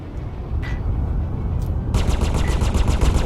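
A spaceship fires torpedoes in Star Citizen over a heavy, constant engine rumble, first a couple of isolated shots and then a rapid, loud burst of repeated launches.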